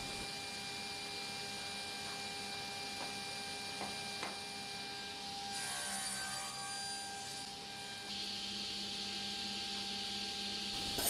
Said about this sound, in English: Just cutting the small pieces, holding it with a stick